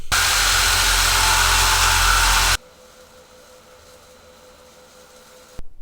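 Loud, steady power tool whirr, an impact wrench or ratchet tightening motor mount and transmission mount bolts during a hard mount install, running for about two and a half seconds, then cutting off to quiet, with a brief burst at the very end.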